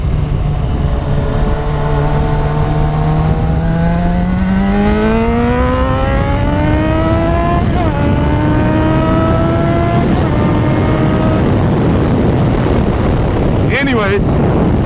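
Yamaha FZ6R motorcycle engine while riding through a neighborhood, its tone climbing steadily through the gears as it accelerates, with strong wind noise over the microphone and a rider's voice partly heard.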